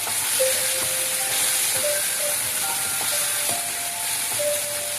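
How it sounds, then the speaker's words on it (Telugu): Onions sizzle in hot oil in a pan, a steady bright frying hiss with faint crackles, close and continuous with no voices. "ఇప్పుడు ఆయిల్ వేడైన తర్వాత అందులో ఆనియన్ వేయండి."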